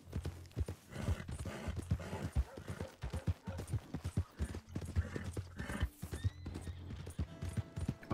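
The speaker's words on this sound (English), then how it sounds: "Y vamos a devolver a este caballo." Horse hooves clip-clopping in the video game Red Dead Redemption 2, a steady rhythmic walking gait of close, distinct hoof strikes with a brief whinny-like tone near the end.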